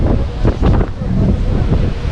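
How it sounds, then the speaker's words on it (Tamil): Strong cool wind at sunset in Kanyakumari buffets the microphone in a steady low roar, with gusts rising and falling and a faint wash of surf behind. "சும்மா அப்படியே சில்லுன்னு காற்றடிக்குது."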